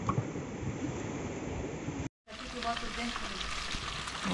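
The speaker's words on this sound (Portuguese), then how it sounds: "Hora da fritura. Hora de fazer as peixinhas que foram pescadas, né?" Small freshly caught fish fry in hot oil at a beach spot in Santa Catarina, a steady loud sizzle that cuts out briefly and resumes with crackling and pops.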